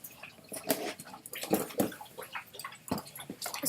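A dog laps up water close by, making a run of wet, uneven slurps and splashes with brief pauses between bursts.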